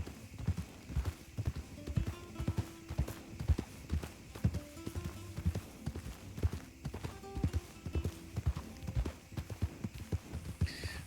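Horse hooves clip-clop in a steady, fast rhythm as a horse runs in Red Dead Redemption 2, fairly close and continuous throughout, with an occasional faint whinny and light talk nearby.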